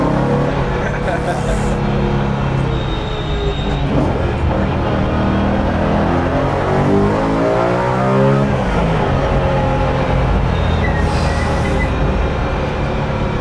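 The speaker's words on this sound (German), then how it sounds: "du hast ja hier diesen Motor, der so wahnsinnig präsent ist und auch die Abgasanlage, die so ballert." BMW E92 M3 track car built for the Nürburgring Nordschleife, its engine and exhaust roaring loudly and continuously from inside, with a rising pitch sweep midway as it accelerates and voices talking underneath.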